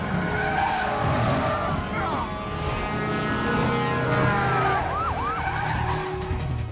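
Police chase with a car skidding and a siren sweeping up and down over engine noise, loud and close, the siren wailing clearly midway and again near the end.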